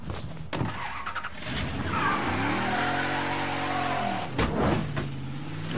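A car engine revs hard at full throttle while drifting in Mafia III, a loud continuous roar with rising and falling gear tones and brief tire squeal, close and steady throughout.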